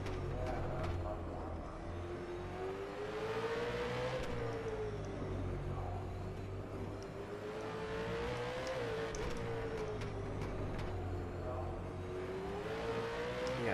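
V8 Supercar engines howl steadily in the rFactor 2 racing sim, a Holden pack ahead, the engine note rising and dipping through gear changes and corners, close and constant, with faint background sounds throughout.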